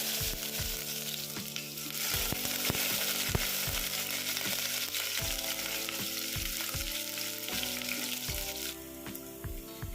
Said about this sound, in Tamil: கடுகு நல்லா பொரிஞ்சதுக்கப்புறம் சின்ன வெங்காயம் சேர்த்துக்கலாங்க.